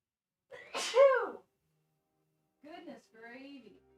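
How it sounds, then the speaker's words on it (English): One loud, close sneeze bursts out alone near the start, followed after a pause by a brief spoken exclamation. "I might have to sneeze here in a second."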